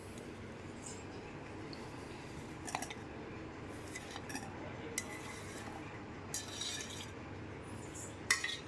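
Salted raw mango pieces with the peel left on are stirred in a bowl for mamidikaya pachadi, with faint, scattered spoon clinks and soft scraping over a quiet room.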